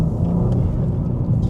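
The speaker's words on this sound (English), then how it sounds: "Oh, there you go, you got the intake on the blow off." A modified BMW G82 M4 with an aftermarket intake gives a short, close, low rumble of engine and intake whoosh under load, steady and without talk.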